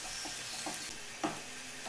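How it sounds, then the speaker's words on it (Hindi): Masala frying in a pan for a soya chunks curry, a steady soft sizzle with a few brief stirring scrapes, close and fairly quiet, no voices. "हम इस मसाले को अच्छी तरह से फ्राई कर लेंगे"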